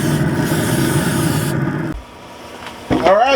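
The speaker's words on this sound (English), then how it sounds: "I'm going to go spray it down with some oil." A steady, loud hiss of aerosol oil spray onto grilling boudin-stuffed chicken lasts under two seconds, then stops; a brief clatter follows and a voice begins at the end.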